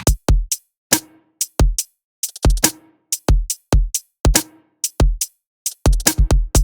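A full electronic drum pattern with layered hi-hats, deep punchy kicks and snappy mid hits, all playing together in a steady, driving groove, loud and with no other instruments.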